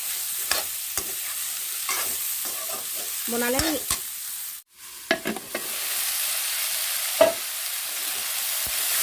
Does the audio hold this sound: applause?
no